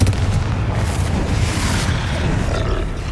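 A Confringo fire spell blasts in the Hogwarts Legacy video game, a continuous booming, roaring explosion rumble that stays loud and dense for about three seconds with no pauses.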